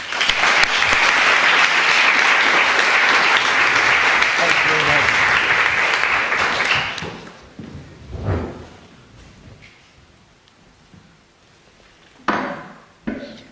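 A lecture audience in Harlaxton's Gold Room claps for about seven seconds, dense and steady, then the applause dies away into scattered shuffles and knocks before a speaker begins talking.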